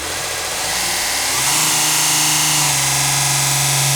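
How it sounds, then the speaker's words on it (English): A VEVOR 30 x 1-inch variable-speed belt grinder sander grinds down a metal screw or bolt, giving a loud, steady motor whir with broadband belt noise that rises and settles into a constant hum. "I'm just going to grind that guy down."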